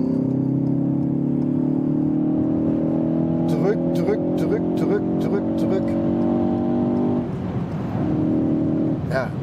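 Ford Focus ST with the 2.3 EcoBoost accelerating in sport mode in fourth gear, a loud steady engine drone rising in pitch with a brief shift-like dip near the end, heard from inside the car while someone talks over it.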